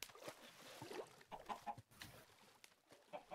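Two chickens cluck in the SevTech Ages Minecraft modpack, their short irregular clucks and squawks coming fairly close in a steady scatter of bursts with no talk.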